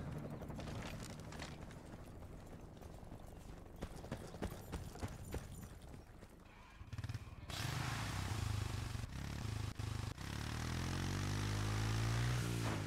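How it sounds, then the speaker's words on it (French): A helicopter passes overhead in the video game Battlefield: Bad Company, its rotor thumping amid game noise, then swelling into a loud, sustained whir with a shifting engine pitch as it comes close. "Maintenant, il y a un hélicoptère. Un hélicoptère au-dessus de nous."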